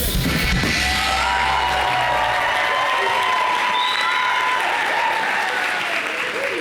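A television studio audience applauds a singer with steady, dense clapping mixed with a few cheers and whoops, over a brief low musical tail at the start.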